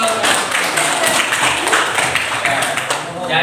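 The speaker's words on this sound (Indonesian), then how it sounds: "Oke, tepuk tangan untuk." Children in a classroom clap their hands together in a steady, dense burst of applause that fills the room at close range, with no talk over it.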